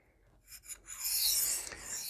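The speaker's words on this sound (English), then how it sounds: "Kind of sharpening at an awkward angle here" A knife scrapes steadily on a well broken-in DMT diamond sharpening plate at an awkward angle, a close, continuous rasping stroke that swells and holds.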